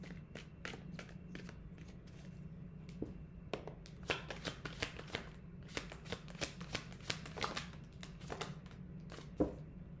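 Tarot cards being shuffled by hand, a quick series of crisp riffling and slapping bursts with short pauses between, close and fairly quiet over a low background hum.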